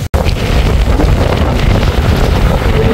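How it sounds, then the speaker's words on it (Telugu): Strong cyclone wind at a beach buffeting the microphone, a loud continuous roaring rumble with waves crashing, after a brief cut at the start. "గాలి అయితే నిన్నటి మీద చాలా ఎక్కువ వేస్తుంది."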